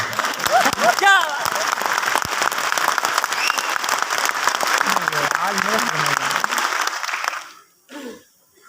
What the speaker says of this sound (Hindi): ताली बजाने में आपका क्या जाता है?